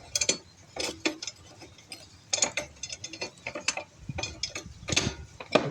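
Blade bolt on a Troy-Bilt TB110 mower being threaded and seated, a series of sharp metallic ticks and clicks at an irregular rhythm, close by with no talking.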